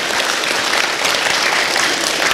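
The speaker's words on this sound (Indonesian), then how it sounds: "Tepuk tangan, supaya tidak tegang." An audience at an Islamic religious lecture applauds steadily, a dense, loud, continuous clatter of many hands clapping that fills the whole moment without pause.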